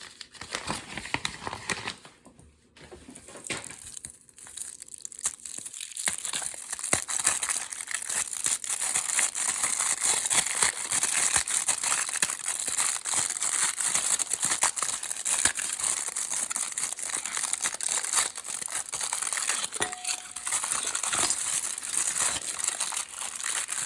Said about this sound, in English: we're just gonna break up the chocolate